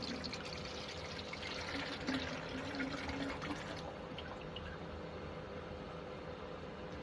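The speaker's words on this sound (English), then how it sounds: "let's put some more water in this" Water pours steadily into a container for an indoor cannabis grow, a continuous splashing rush that eases off partway through, close and moderately loud, with no talking.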